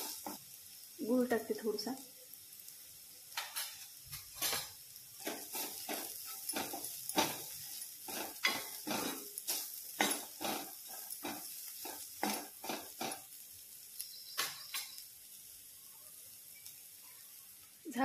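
Bitter gourd (karela) bhaji being mixed in a pan with a spoon, giving repeated scraping and clinking strokes with a light sizzle underneath, while someone speaks briefly near the start.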